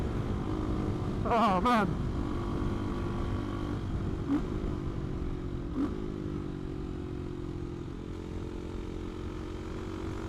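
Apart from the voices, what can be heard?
CCM Maverick motorcycle engine while riding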